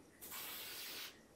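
A single hissing spray burst of about a second rises abruptly and cuts off during a dark-room photography shoot with a pop-up flash. It is quiet but clear, with no talk over it.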